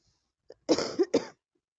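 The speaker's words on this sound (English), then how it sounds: "Sorry for coughing" A brief cough, two harsh close bursts after a small throat catch, then silence.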